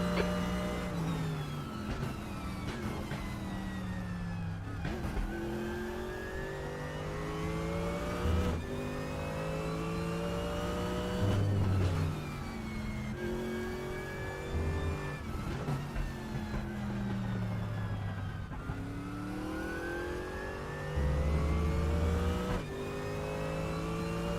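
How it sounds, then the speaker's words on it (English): A Group 5 race car engine in the RaceRoom racing game screams through repeated revving climbs and drops as gears shift, loud and continuous with rising whine sweeps over the whole stretch. "It's weird driving a group 5 car with a Formula 1 wheel."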